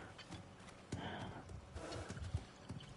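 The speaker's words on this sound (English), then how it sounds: "That's a really nice horse." A horse's hooves clip-clop in the video game God of War Ragnarok, a few uneven close steps over soft ambient background, fairly quiet.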